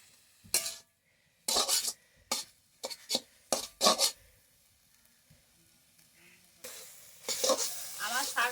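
Mixed leafy greens in a pan give off a soft sizzle while a utensil stirs them in several short, scraping bursts. Quieter stretches of hiss come between the strokes, and a longer stirring burst comes near the end.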